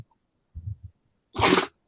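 A sharp, close sneeze bursts out after a short sniffly intake, set against silence.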